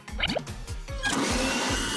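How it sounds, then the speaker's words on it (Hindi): Blender whirring as a smoothie is made, a loud steady motor roar with a rhythmic low pulsing that runs through the whole stretch, heard alone with no talking. "अच्छा हुआ मेरा ब्लेंडर मेरे साथ है।"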